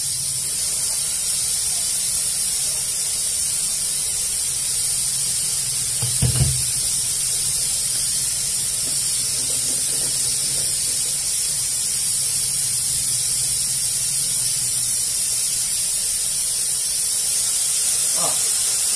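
Constant loud hissing sizzle of garlic and onion frying in a pan, steady throughout with a brief clatter partway and faint talking beneath.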